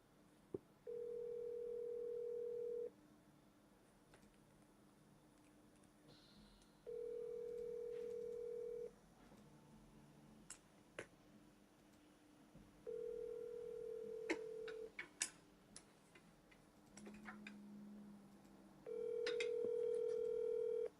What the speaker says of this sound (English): I just called her now just to practice rebuttals. All right, I'm calling right now.